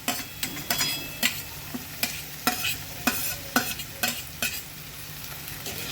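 Chopped onions and tomatoes fry in a pan for a chana poha breakfast, with a spatula stirring and scraping in a quick, regular rhythm of sharp clicks over a steady low sizzle; no voices.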